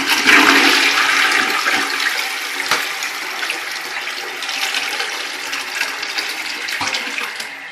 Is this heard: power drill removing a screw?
no